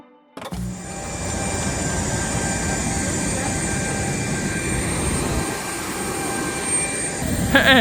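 Loud, steady engine roar inside an airplane flying to Katmai National Park in Alaska, a continuous broadband drone that holds for several seconds before a brief change near the end.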